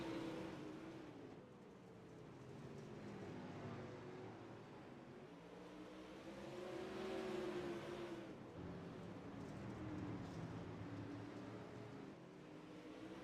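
Super Late Model dirt race cars lap the track at Lanier, engines droning and rising and falling as the pack circles, heard at a distance as a steady, swelling roar with no voices.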